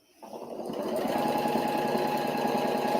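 A sewing machine stitching fabric starts up and settles into a steady, fast, close mechanical whir with a rapid rhythmic chatter that runs continuously to the end.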